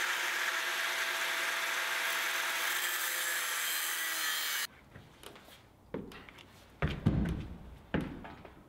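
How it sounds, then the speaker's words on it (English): An angle grinder cuts the ends off a metal stair railing with a loud, steady, hissing whine for several seconds. It then stops abruptly, followed by a few scattered knocks and handling clunks. "I grabbed my angle grinder to cut the ends off."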